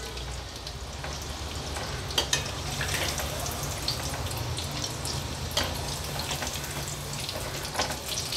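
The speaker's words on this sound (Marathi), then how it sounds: "आता मीडियम फ्लेमवर गॅस ठेवून आपण हे रोल उलट पालट करून व्यवस्थित गोल्डन फ्राय होईपर्यंत फ्राय करून घ्यायचे।" Mutter paneer rolls fry in oil over a medium flame, a steady soft bubbling sizzle with occasional sharper crackles and clicks as they are turned, no talk.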